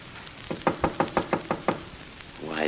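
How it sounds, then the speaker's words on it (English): A series of about seven sharp, evenly spaced knocks on a door, loud and close, followed by a brief pause and then a swelling tonal sound at the end. "Wise guy knocking on his own door."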